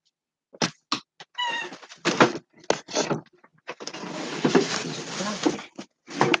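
A cat squeals and meows in several short, sharp bursts, then a longer stretch of harsher, noisy squealing and scuffling, close to the microphone.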